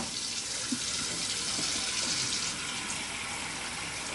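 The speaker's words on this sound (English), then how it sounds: "We put in cold water." Cold tap water runs over boiled eggs in a pot, a constant rushing stream into the sink filling the whole stretch, close and steady with no voices.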